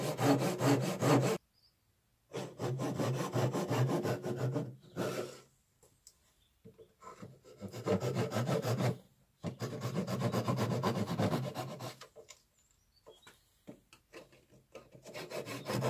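A blade on a workcentre saw cuts wood in several bursts of loud, close rasping, each a few seconds long and separated by near-silent pauses.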